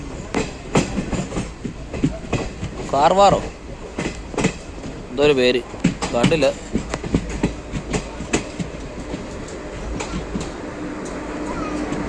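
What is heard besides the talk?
goods train passing on the Konkan Railway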